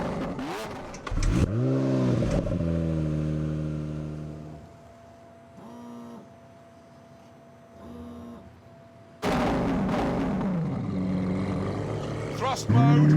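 A 730-horsepower Lamborghini Aventador revs hard and accelerates close by, its engine note rising through several upshifts, easing to a quieter stretch, then roaring up again.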